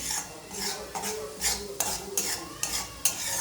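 Strawberry halwa is stirred and roasted in a pan, giving a run of regular spoon strokes that scrape and clink against the metal roughly every half second over a low sizzle.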